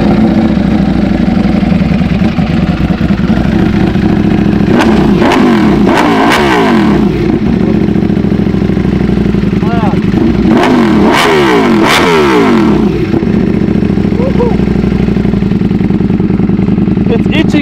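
A Ducati Panigale V4 motorcycle with a full SC Project exhaust idles with a deep rumble, then is revved hard in two bursts of sharp, loud, rising blips through the loud exhaust.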